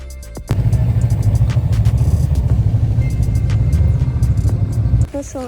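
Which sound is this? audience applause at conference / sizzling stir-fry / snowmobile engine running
snowmobile engine running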